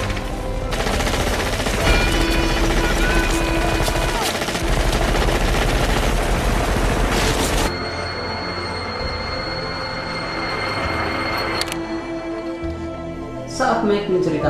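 Machine guns fire into the jungle in the 1987 film Predator, loud, dense and unbroken for several seconds, then trailing into ringing tones and scattered echoes.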